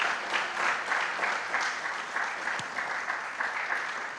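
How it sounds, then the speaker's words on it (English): A school quiz competition audience claps for the contestants, with steady, slightly rhythmic applause from a moderate crowd, somewhat distant and consistent in level. "I think that deserves a round of applause"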